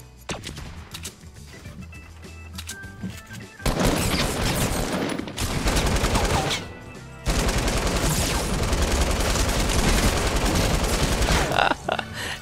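An LMG light machine gun rattles in the Fortnite battle royale game, with sparse shots early, then two long, loud bursts of rapid automatic fire separated by a short pause.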